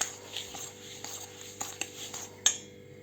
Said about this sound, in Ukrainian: Розмішуємо усе. Я розмішую за допомогою виделки